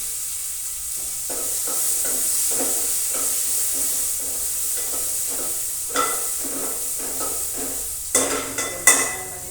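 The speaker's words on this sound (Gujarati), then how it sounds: "ડુંગળી છે એ આપણે નાખી દઈશું. અને તેને ડુંગળીને બરાબર ચડાવી દઈશું આપણે." Onion frying in oil with mustard seeds, cumin and asafoetida, a steady close sizzle under repeated rhythmic stirring scrapes, with a few sharper clanks near the end.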